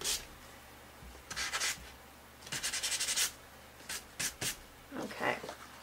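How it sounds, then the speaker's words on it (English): Sandpaper rubs across a painted tole-painting surface in short, quiet bursts of dry scratching, a few strokes at a time with pauses between, close to the mic. "Anything that looks a little too new, just sand, too saturated."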